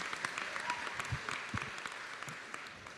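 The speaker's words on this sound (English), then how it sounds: "We want to clap for you." Audience applause at a college commencement ceremony, fairly soft and distant, a sparse patter of clapping with a few louder thumps, fading slightly toward the end.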